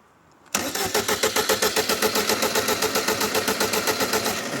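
A car engine cranks with a fast, steady chugging rhythm that keeps turning over without catching, loud and close, following a moment of quiet.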